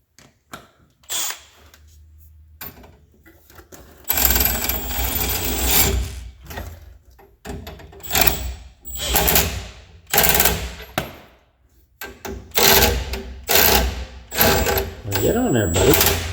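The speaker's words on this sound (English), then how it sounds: "Let's get the old Power tools out. Let them do the spinning." Power tools spinning fasteners while working on a supercharged Plymouth Volare, with bursts of rapid ratcheting and whirring that start and stop, some close and loud, with a voice talking between them.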